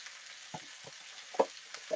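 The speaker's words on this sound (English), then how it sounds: "It will start to actually cook in the butter." Steak cooking in butter in a frying pan, a soft steady sizzle with several brief louder spits and pops spread across the clip, close by, with no voices.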